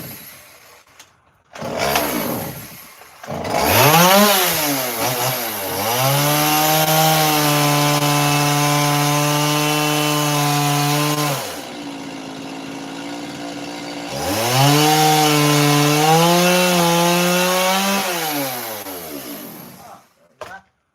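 A chainsaw carves wood, its engine rising and holding in long sustained bursts with brief pauses between cuts, loud and close throughout.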